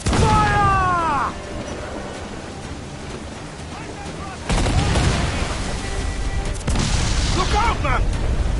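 Cannon fire and explosions during a naval battle in Assassin's Creed Black Flag: heavy booming blasts with rumbling tails alongside crashing sea noise, while voices shout over the action.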